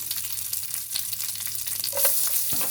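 Curry leaves sizzle in hot sesame oil in a pan, a steady close frying crackle with a brighter burst of spitting near the end, no voices.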